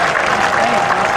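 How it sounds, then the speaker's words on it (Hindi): A packed hall at a Holi poetry gathering breaks into loud, dense clapping, a continuous wash of applause from the whole audience. "जरा पूरा सदन एक बार उल्लास के साथ जोरदार तालियां बजा दें।"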